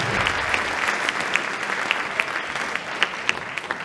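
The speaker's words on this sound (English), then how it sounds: "Let's give them another big round of applause." Audience applause after a school mixed choir's performance at a high school winter concert, a steady loud wash of many hands clapping with a few sharper individual claps standing out.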